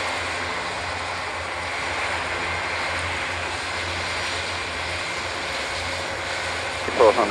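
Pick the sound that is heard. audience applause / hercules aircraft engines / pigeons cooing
hercules aircraft engines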